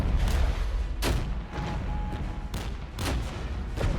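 Heavy artillery barrage in the war strategy game Regiments, with repeated booming blasts and sharp reports overlapping in a dense, rumbling fusillade, several distinct impacts standing out over continuous battle noise.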